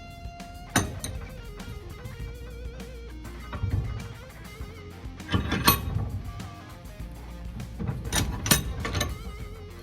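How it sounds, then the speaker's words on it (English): Stainless wire worked in a bench vise, giving uneven metallic clinks, taps and grinding scrapes in clustered bursts, close and moderately loud. "let's finish it off in the vise"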